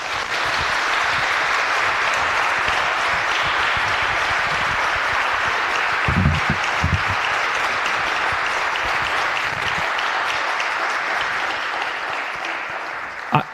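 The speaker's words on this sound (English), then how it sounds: "Please give them a round of applause" Sustained crowd applause for panelists at a public dialogue event, a long, even roar of many hands clapping that holds for over ten seconds before tapering, with a few low thumps partway through.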